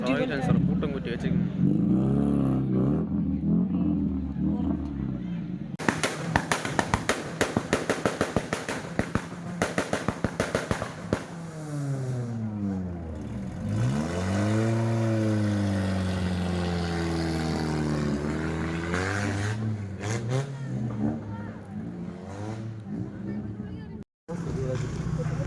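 A car at a college motor show revs its engine loudly, with a rapid crackling burst of exhaust pops followed by long rising and falling revs, while people talk and shout nearby throughout.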